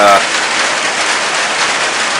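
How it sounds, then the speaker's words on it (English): Steady rain pours down close by, a dense, loud, unbroken patter on outdoor surfaces that runs throughout. "it is raining"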